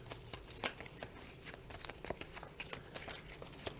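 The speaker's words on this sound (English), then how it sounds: "Now I have to shuffle." A deck of cards shuffled during a tabletop game of Flamme Rouge, a rapid run of dense crisp riffling clicks and flutters at moderate level, close by, with no talk.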